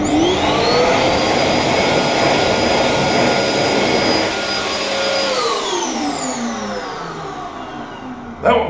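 A hand dryer in a public restroom at Sylvia Park Shopping Centre, Auckland: loud, steady roaring blast of air that holds for several seconds, then winds down with a falling whine, ending in a brief knock.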